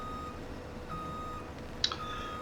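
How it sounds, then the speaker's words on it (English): A vehicle's reversing alarm beeps steadily as a repeated tone under low engine hum in the Farming Simulator 17 video game, with a brief louder clunk near the end. "That beeping could get rather annoying though, couldn't it?"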